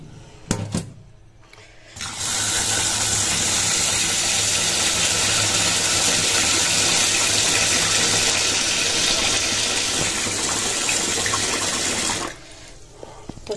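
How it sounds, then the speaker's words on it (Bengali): Tap water pours hard into a pot while rice is washed in a home kitchen, a loud steady rushing stream lasting about ten seconds, bracketed by brief clatter and handling noises at the start and end. "চালটা এখন ধুবো।"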